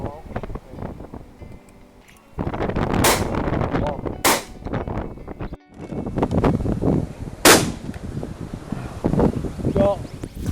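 Shotgun blasts fired at pigeons in strong wind, three sharp loud cracks spread across the stretch, with heavy wind buffeting the microphone and people talking between shots.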